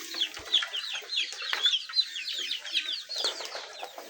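Chickens cluck and chatter continuously nearby, a dense overlapping flurry of short calls with a few louder squawks, in a farmyard setting where ducks are also kept.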